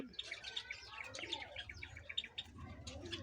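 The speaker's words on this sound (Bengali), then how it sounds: "এটা আমার জাবা পাখির কলোনি" A colony of Java sparrows chirps and tweets continuously, many birds calling at once in a dense, busy chatter close by, with no voices.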